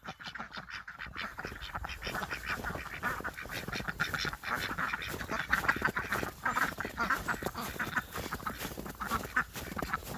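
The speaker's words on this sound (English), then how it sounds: "Good ducklings." Ducklings and other ducks quacking and peeping continuously at close range during a spring snowstorm in Maine, a dense busy chorus of calls with some fowl squawks mixed in.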